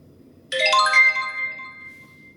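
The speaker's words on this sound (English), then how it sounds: "the base station will emit a sound notification" The Xiaomi BW500 camera base station sounds a notification, a single bright ringing chime that strikes suddenly out of silence and fades slowly, loud and alone.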